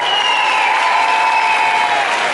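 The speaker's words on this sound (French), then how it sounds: "un tonnerre d'applaudissements, s'il vous plaît" A convention audience at Paris Manga applauds guest David Hewlett, a dense, even wash of clapping from a large crowd, held steady throughout with a faint whistle-like tone over it.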